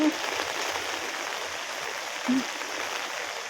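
Steady rain falling during a strong typhoon, a dense broadband hiss of drops on a surface, continuous and fairly even throughout.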